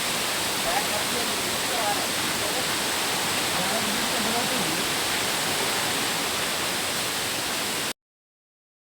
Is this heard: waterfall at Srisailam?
yes